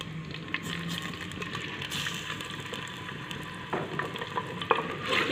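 Chicken fries in a pan for ginger chicken, giving a soft, continuous sizzle with faint stirring and a few small clinks, fairly quiet and steady.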